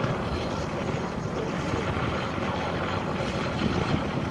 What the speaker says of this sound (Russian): самолет произвел атаку на немецкие позиции и уходит на еще один